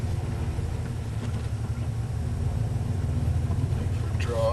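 A turbocharged LS1 engine rumbles steadily as the car is driven after clutch work, a close, constant low drone, with someone talking over it.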